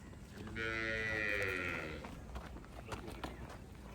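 Cholistani Friesian cross cow lets out one long, loud moo lasting over a second, close by, followed by shuffling hooves and farmyard clatter.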